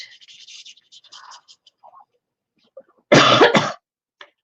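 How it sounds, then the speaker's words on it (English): A single close, loud cough after a few seconds of faint scratching, like pen or brush strokes on paper. "Now I'm coughing."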